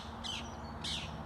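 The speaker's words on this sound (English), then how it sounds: "That was a lot of the parakeets then." Two short, shrill parakeet calls ring out about half a second apart over a low steady background hum, moderately distant, in a park.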